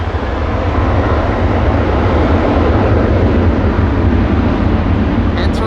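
An airliner departing Amsterdam Schiphol Airport for Poznan in windy conditions, a loud, steady, broad engine roar and rumble that holds throughout.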